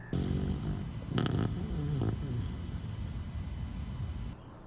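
A fluffy dog snores close by in a low, rumbling, continuous rasp with a few snorts, loud and alone without any talking.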